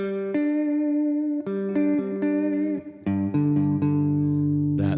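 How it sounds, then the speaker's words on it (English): Several guitar power chords strummed one after another, each ringing out fully with a thick, sustained tone, played alone with no voices. "Fifths are easy to find on a guitar because they're that power chord."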